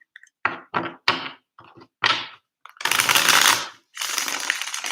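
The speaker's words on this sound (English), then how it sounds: "I'm hearing the word pressure as I'm shuffling the cards, the deck" A deck of tarot cards is shuffled by hand, close up, with several short riffling bursts and thumps, then two longer, louder riffles. Quiet gaps separate the bursts.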